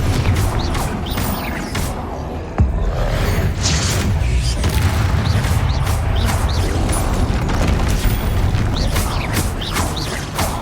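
Incendio and Confringo spell blasts fired in the game Hogwarts Legacy, a dense, loud stream of fiery whooshes and crackling impacts mixed with mechanical combat effects, continuous throughout.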